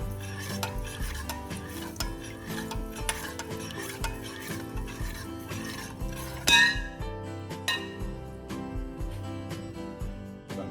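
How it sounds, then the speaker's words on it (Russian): Steady stirring of salt brine for cabbage kimchi in a pot, a utensil scraping and clinking against the sides in a continuous rhythm, with one sharper clink partway through. "Хорошо размешиваем."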